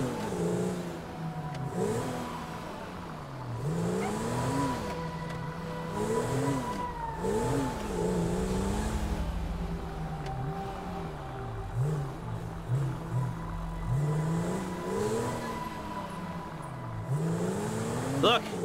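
A car engine in Grand Theft Auto V revs up and eases off repeatedly while cruising around a city block, with rising and falling engine tones throughout and in-game voices talking over it.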